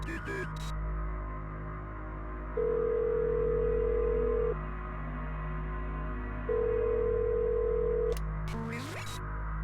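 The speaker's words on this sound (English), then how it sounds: "after 5 misses, you're supposed to pick up a phone call" Phone ringing in the horror video game Concrete Tremor: two long, steady electronic ring tones a few seconds apart over a constant low hum, with faint clicks at the start and end.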